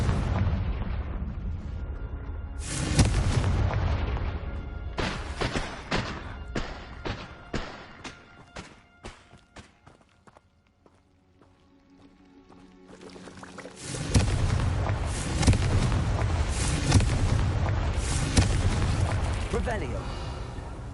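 Repeated booming blasts from the Confringo explosion spell in the video game Hogwarts Legacy, loud rumbling bursts separated by a quieter stretch, with a voice speaking over them at times.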